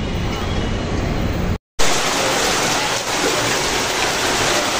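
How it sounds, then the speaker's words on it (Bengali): Heavy rain pours down in a dense, loud, continuous roar, briefly cutting out for a moment before resuming at full strength. "বাপরে বাপ, কি বৃষ্টি হচ্ছে!"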